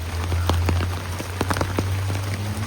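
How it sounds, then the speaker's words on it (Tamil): Heavy monsoon rain pours down on a Mumbai street during floods, drops pattering sharply on a nearby surface over a steady low hum. "மழை பாருங்கள் பிச்சு எடுக்குது."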